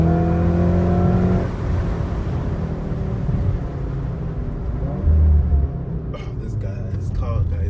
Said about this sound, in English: I'm not sure if you guys can hear the exhaust